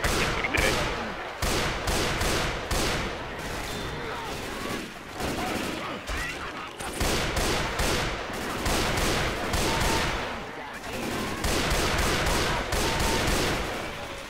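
Sustained automatic gunfire in a zombie-survival shooter in the style of Left 4 Dead, with loud, rapid, repeated bursts that run almost continuously and break only in brief pauses. Voices can be heard faintly beneath the shooting.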